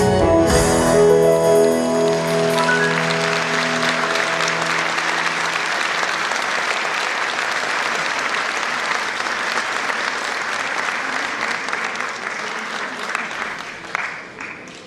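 Sustained audience applause at a live concert, a dense steady wash of clapping that begins right after a sung phrase ends and carries on at full strength, thinning slightly near the end with a few louder claps.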